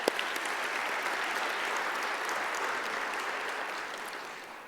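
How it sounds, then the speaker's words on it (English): A conference audience at an environmental plenary session claps steadily for several seconds, a dense and even wash of many hands heard from within the hall, fading slightly at the end. "Let's give them a round of applause and thanks"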